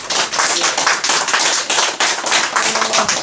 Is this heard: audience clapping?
yes